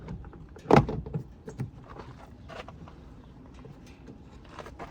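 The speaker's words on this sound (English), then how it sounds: "Door lock and unlock." Door locks on a 2006 Honda Pilot actuate with a sharp mechanical clunk near the start, followed by fainter clicks and small rattles in a quiet setting.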